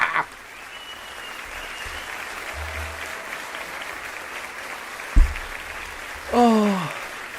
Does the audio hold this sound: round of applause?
yes